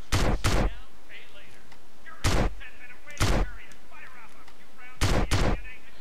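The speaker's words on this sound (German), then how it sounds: "Irgendeine abgesägte Schrotflinte." A double-barreled sawed-off shotgun fires in the MTA video game: three pairs of loud, sharp blasts, each pair two quick shots, spaced about two seconds apart, with quiet game ambience between.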